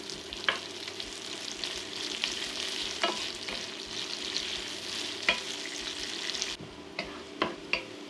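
Sliced onions fry in about two tablespoons of vegetable oil in a pan, a steady close sizzle broken by occasional sharp clicks of a utensil stirring, with no talk.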